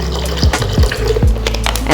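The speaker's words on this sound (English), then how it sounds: "and some water, a little bit of water" Water pours into a blender jar holding a turmeric drink mix with agave syrup, a steady liquid fill with a few gurgling plops, close up and without talk.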